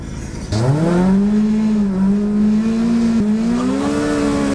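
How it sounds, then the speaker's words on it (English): A car doing a burnout on a drag launch: the engine jumps to a loud, close, sustained high rev, with tires squealing and a droning tone that wavers and climbs slightly for several seconds. "Does a burnout better than most cars."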